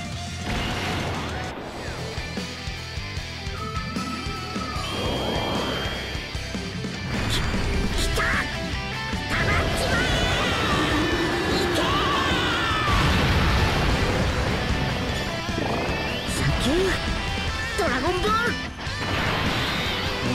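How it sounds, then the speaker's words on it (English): Spirit Bomb attack in Dragon Ball Z Dokkan Battle: dense, sustained crashes, booms and energy blasts pile up with swooping synthetic effects and some voices, loud throughout. "enjoy the Spirit Bomb"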